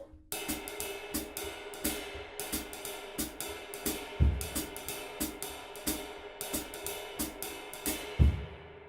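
Uptempo jazz drumming plays a second melody pattern in a fixed permutation, with crisp cymbal strokes in a quick, steady pulse and occasional heavier bass-drum accents, moderately quiet and clear with no voices.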